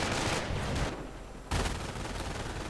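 Rapid gunfire from a 1v1 World War-style strategy game battle, machine-gun bursts and rifle shots crackling in dense, continuous volleys with a short lull before firing resumes loudly.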